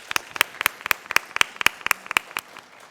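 Scattered, sparse clapping from a small audience at a Hindi-Urdu poetry gathering in Pune, honoring poet Shakeel Azmi: distinct individual claps in an uneven rhythm, fairly close, fading out toward the end.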